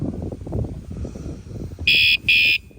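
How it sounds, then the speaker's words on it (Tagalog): Two short, shrill electronic car alarm beeps sound back to back near the end, cutting over a low rumble of background noise and movement. "ayan nag-a-alarm siya guys no"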